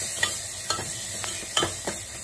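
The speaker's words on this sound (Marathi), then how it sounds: "हा मसाला आपल्याला या फोडणीमध्ये तेलामध्ये चांगला परतून घ्यायचा आहे।" Spice masala sizzles softly in an oil tempering while a spoon stirs it, making several evenly spaced scraping knocks over a quiet, steady fry.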